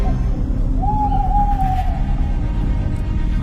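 An owl perched on a car roof by a forest highway at night gives one drawn-out tonal hoot over a steady loud low rumble.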